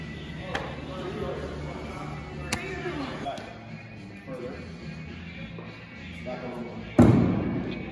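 An axe thrown into a wooden target at an axe-throwing venue lands with a sharp, loud thud near the end, preceded by a few fainter knocks and taps under people talking.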